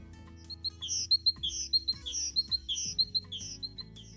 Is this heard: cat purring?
no